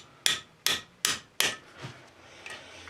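Four sharp, evenly spaced taps of a tool on a 10 mm socket pressed over a valve spring, close and crisp, then a couple of softer knocks and light scraping.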